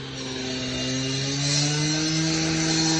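Power saw cutting old bricks out of a wall, with a welding truck nearby. It is a loud, steady whine with sustained tones that rise slightly in pitch over a few seconds, close up and without talk.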